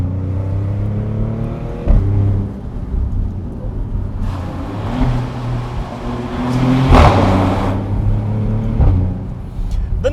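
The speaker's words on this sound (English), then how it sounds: "let's do some driving in the GranCabrio Trofeo" Maserati GranCabrio Trofeo with the Nettuno twin-turbo V6, top down on a mountain road in sport mode with manual shifting, revs up and down through several gear changes, loud and close, with road rumble and wind between the pulls.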